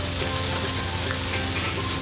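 Ginger, garlic and onion fry in a pan for a quick beef and bell pepper stir-fry, making a dense, even, close sizzle that holds without pause and with no voices.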